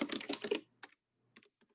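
Fingers tapping on a computer keyboard in a cold room while a DocuSign referral agreement template is set up; a dense run of quick keystrokes, then a pause and a few scattered soft taps, close and fairly quiet.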